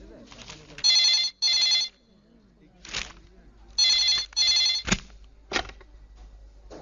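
A telephone bell rings in several short bursts, pausing between rings, with faint talk and a few sharp clicks in the gaps.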